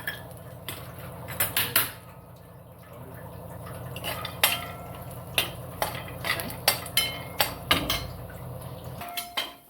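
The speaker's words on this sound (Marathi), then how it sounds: "त्यानंतर आपण थोडेसे काजू भाजून घेऊ" Cashews roast in a pan while a metal spoon stirs and scrapes against it, a steady low sizzle beneath repeated sharp clinks and knocks, close and fairly loud.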